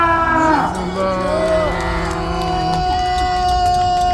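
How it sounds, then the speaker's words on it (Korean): A crowd at a street rally and march in Nampo-dong, Jung-gu, Busan raises a loud, sustained cheer, with shouting and drawn-out voiced tones rising together before settling into a steady roar. "우리 함성 질러봅시다."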